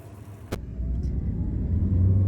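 A car pulls away with a single door-like thump at the start, then a low engine rumble that builds steadily as it gets under way, close and with no talking.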